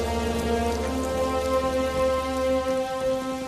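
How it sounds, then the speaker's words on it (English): Light rain falls in a steady, even patter, with a droning tone running beneath it. "Light rain began to fall"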